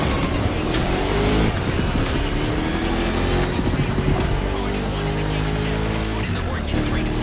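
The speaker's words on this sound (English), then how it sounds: "You're driving my #1 car, the star of my collection, the 1969 Mustang Boss 429." A 1969 Ford Mustang Boss 429 V8 roars steadily in the Crew Motorfest racing game, with rising and falling revs and gear changes under continuous loud engine noise, along with some tire noise.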